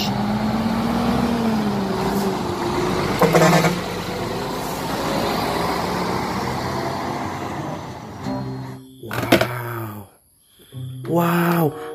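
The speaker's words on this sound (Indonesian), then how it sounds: "Ada mobil box teman-teman." A toy box truck gives off a rumbling engine sound with a rising tone and a few sharp bursts, followed by short voiced sounds near the end amid pauses.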